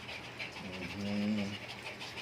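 A dog pants quickly and close by, breathy rhythmic puffs with a soft voice murmuring underneath.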